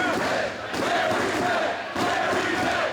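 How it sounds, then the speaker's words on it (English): A wrestling crowd in Coral Springs chants loudly in rhythmic waves for a wrestler during a tag match, a dense roar with brief dips between chants and a commentator faintly under it. "Listen to this crowd here in Coral Springs getting behind Jerry Lynn."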